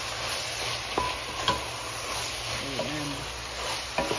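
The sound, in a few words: stirring tomatoes and onions frying in a pan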